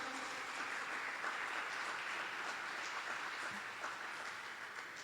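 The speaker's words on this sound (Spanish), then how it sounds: "Denle un fuerte aplauso al Señor." A church congregation giving a strong round of applause during a Spanish-language service, a dense, steady wash of many hands clapping at moderate distance with no speech over it.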